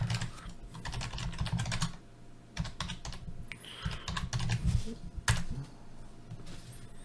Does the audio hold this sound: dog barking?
no